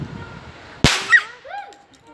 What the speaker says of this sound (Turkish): Şurada patladı dibime geldi.